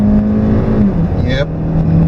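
A 2014 Hyundai Elantra Coupe engine revs toward redline and is cut short by an automatic upshift, its steady drone rising briefly while people talk over it.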